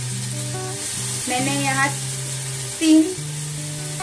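A ginger and green chili paste with ground spices fries in a pan for a vegetable chop, a steady close sizzle heard under a person talking.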